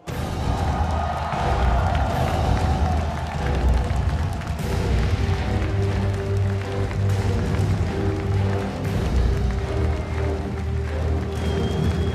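Large esports arena crowd at a Dota 2 Major roars as the Virtus.pro team walks on stage, a sustained loud wash of cheering and shouting with booming music underneath throughout.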